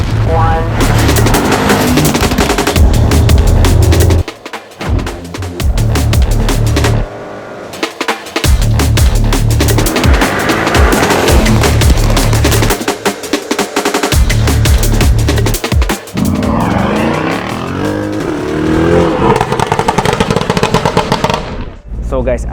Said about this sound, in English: let's start our hot test drive with this beast by BRABUS. This is GLE Coupe 900 Rocket Edition with 900 horsepower